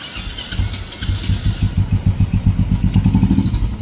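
A Royal Enfield Bullet motorcycle with engine and chain trouble fires up and settles into a loud, close, rhythmic thumping idle, its beat growing steadier and stronger.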